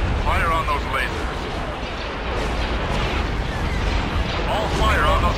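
A steady barrage of starship weapons fire against laser cannons in the Star Wars Empire at War strategy game, heavy rumbling booms and crackling blasts running throughout, with brief voice bits near the start and end.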